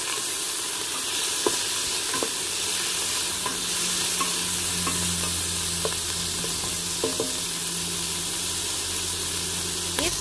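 Ginger sautéing in a pan, a bright continuous sizzle with repeated scraping strokes of stirring, and a low hum underneath.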